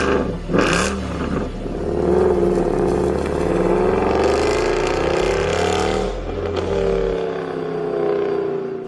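A Mercedes W204 C63 AMG with a large naturally aspirated engine revs up, a deep loud rising roar that holds, then drops away to a lower rumble near the end.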